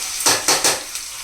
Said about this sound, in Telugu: ఈ టమాటా ముక్కలు కూడా కొంచెం మగ్గే వరకు ఒక 2 మినిట్స్ మగ్గించుకోవాలి.